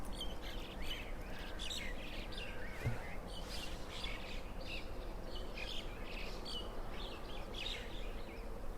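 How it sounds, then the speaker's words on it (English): A group of birds chirps and tweets steadily outdoors, many overlapping calls at moderate distance over a constant background hum with faint insect buzzing. "Now that's a different group of birds."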